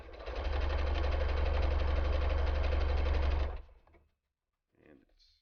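A Brother SE425 sewing machine sews a zigzag stitch with a fast, steady mechanical whir and rapid needle chatter, loud and close for about three seconds before stopping, followed by faint handling noise.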